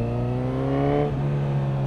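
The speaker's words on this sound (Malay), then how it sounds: "Okay guys, kita dengar bunyi exhaust dia. Bunyi exhaust dia memang sedap." A Honda CB1000 Hornet SP motorcycle idles and revs close by, its exhaust giving a steady, rich drone that swells briefly and then settles back to an even hum.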